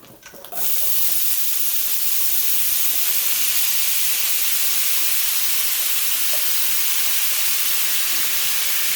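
Mixed vegetables are dumped into a hot pot with caramelized bits. A short clatter gives way to a loud, continuous steam hiss that holds evenly to the end.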